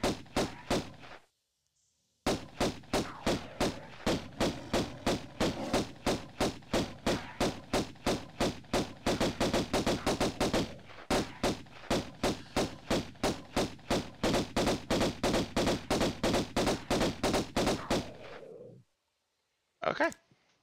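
Rapid pistol fire from the 1996 Tomb Raider video game as lions are shot at, long runs of sharp, evenly spaced shots coming several per second at close range, broken by a few brief pauses.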